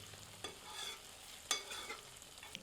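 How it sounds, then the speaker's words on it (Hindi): Ginger garlic paste is stirred and fried on low heat while cooking butter chicken kofta, giving a soft steady sizzle with a few faint scraping strokes of a spoon in the pan. "मिलाकर 2 मिनट धीमी आंच पर भूनते हैं।"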